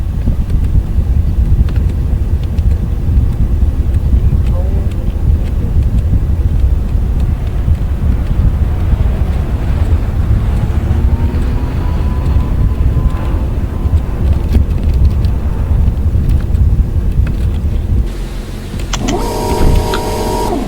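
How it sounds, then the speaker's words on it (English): An airliner takes off in a flight simulator game, giving a loud, continuous engine and wind roar that stays steady for a long stretch, then shifts near the end with a brief rattling change. "We are about to take off. Please fasten your seatbelts and we'll be on our way."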